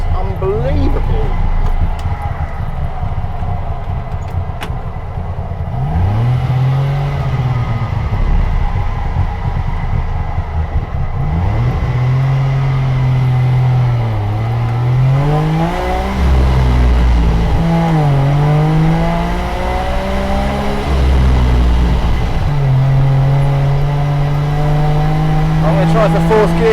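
A German low rider estate car revs its engine hard through the gears on country b-roads, loud and close, with rising and falling pitch sweeps at each gear change while someone talks over it.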